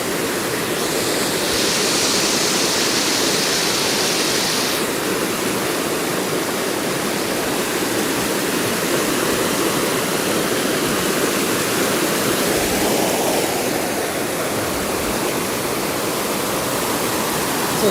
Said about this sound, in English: It's like the only place where you can get this close to this much water sound.